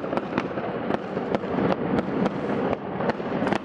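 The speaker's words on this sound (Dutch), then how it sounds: "We gaan nog heel even van het vuurwerk genieten." New Year's Eve fireworks bursting in a Dutch celebration, a dense steady crackle of distant explosions with sharp louder bangs popping out every fraction of a second, no voices.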